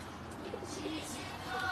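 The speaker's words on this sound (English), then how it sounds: "Lovely pigeon nesting in here" A pigeon coos softly from its nest inside a little birdhouse, a brief, faint call sitting under a steady wash of background noise.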